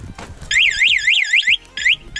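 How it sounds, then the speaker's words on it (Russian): A warbling electronic alarm siren on a Mowgli Sharp quad bike wails in rising and falling sweeps, loud and close, cutting off briefly before starting again. "И просто сигнализация."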